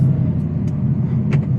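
An 810 HP Whipple supercharged Ford Mustang GT350 engine idles with a deep, steady low rumble, close by, with a few faint clicks over it.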